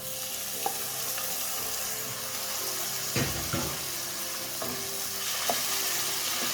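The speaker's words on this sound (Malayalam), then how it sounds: "ഇനി ഇതിലേക്ക് നമുക്ക് വൻപയർ ചേർത്ത് കൊടുക്കാം" Red cowpeas going into a pan on a low flame bring a continuous soft sizzle with a few scattered spoon knocks and a brief thud as they are added, all close and moderately quiet with no talking.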